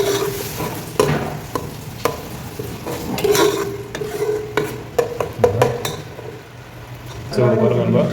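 Tomato masala for an egg and potato gravy frying in a pan, with a steady close sizzle and repeated sharp clinks and scrapes as a spoon stirs against the metal pot, ending in a louder burst of frying.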